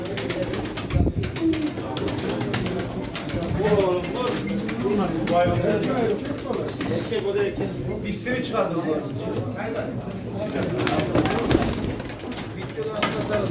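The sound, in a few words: pigeons cooing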